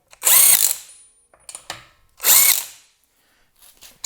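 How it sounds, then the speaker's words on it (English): A SeeSii right-angle impact wrench works on 100 foot-pound motorcycle lug nuts. It gives two loud, close hammering bursts with short mechanical rattles between them. No voices. "definitely capable of putting 100 foot-pound lug nuts on and off, and it didn't really hesitate with that at all"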